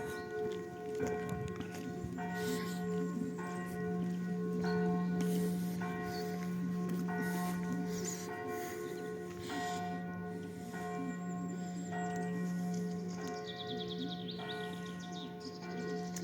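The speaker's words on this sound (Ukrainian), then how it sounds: "Чути дзвони в церкві." Church bells ring out at a distance in the resort town of Truskavets, their sustained tones layered and overlapping, with faint outdoor ambience and occasional soft knocks beneath.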